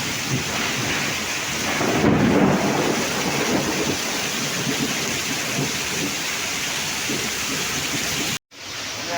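Heavy rain pours at night onto flooded streets and overflowing gutters, a loud steady roar of rainfall with a deep rumble of thunder rolling through early on, no voices, before a sudden brief cut.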